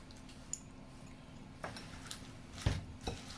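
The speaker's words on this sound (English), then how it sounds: "we're going to put our dressing in, and then we're going to mix it with our fork" A fork tosses dressing through a spinach salad, giving a few faint, scattered clinks and soft scrapes at an irregular pace over quiet room tone.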